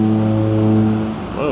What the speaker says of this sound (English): Oh, we got the old foghorn going.